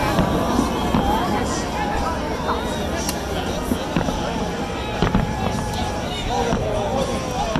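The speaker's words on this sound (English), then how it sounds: "How was the fireworks, honey?" New Year's Eve fireworks burst over Chicago in a steady barrage of pops, cracks and booms, some near and sharp, others distant, amid a murmuring crowd with talk mixed in.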